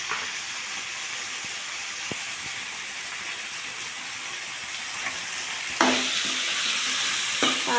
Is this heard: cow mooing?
no